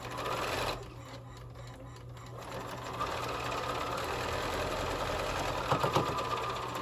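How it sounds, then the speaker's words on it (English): A sewing machine stitches a quilt block in one long continuous run, a steady close mechanical whir that holds level throughout with slight rhythmic knocking and no talk over it. "Let's get this sewn."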